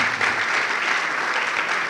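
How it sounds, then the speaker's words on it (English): Steady, dense clapping from an audience at an eLearning international conference, continuous and fairly loud throughout the short stretch with no talking. "Another round of applause for him."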